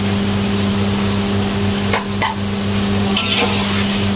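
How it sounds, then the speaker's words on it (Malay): Fried tofu, tempeh and eggplant being stirred in a pan for sambal goreng, with a steady frying sizzle and a few scraping utensil strokes against the pan, close and continuous. "Masukkan dulu ni, kita kacau dulu."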